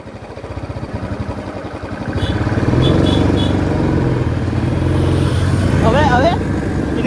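A Royal Enfield Classic 350 motorcycle rides along a road, its steady thumping single-cylinder engine rising as the throttle opens, loud and close with a continuous rumble and brief higher whines near the end, no speech.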